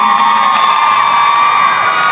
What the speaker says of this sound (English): Can we get a huge round of applause for Shoto?